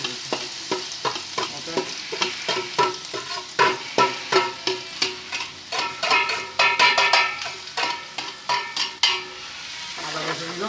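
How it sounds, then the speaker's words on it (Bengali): Ginger, garlic and onion drop into hot oil and sizzle loudly up close, while a utensil stirs and scrapes the pan in repeated rhythmic strokes. "তেল একটু গরম হয়েছে এখন দিতেছি মনে করেন আদা ঠিক আছে দিতেছে রসুন পেঁয়াজ সব কিছু দিতেছি"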